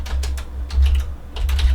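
Close, crisp clicks from a computer keyboard during Python coding come in quick clustered bursts with brief pauses between them, with no voices and a low steady hum underneath.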